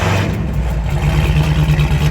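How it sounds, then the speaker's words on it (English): A modified car fitted with a new exhaust revs loudly nearby, its deep engine rumble holding steady and droning without pause. "So it's definitely a louder car."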